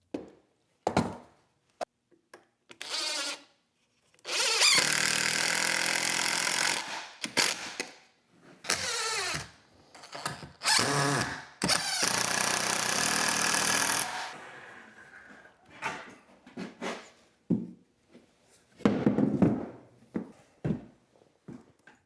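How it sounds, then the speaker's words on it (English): Screws being driven into the wooden parts of a DIY dog bed, with several long, loud mechanical whirring bursts between short clicks and knocks, close by with quiet gaps. "I just need to screw them in place."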